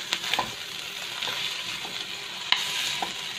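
Roasted pork stirred and fried together with noodles in a hot pan, with a steady close sizzle broken by scraping utensil clicks and a sharper knock near the end.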